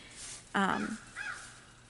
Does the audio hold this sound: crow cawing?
yes